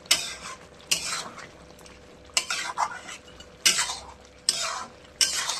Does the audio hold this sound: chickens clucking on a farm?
no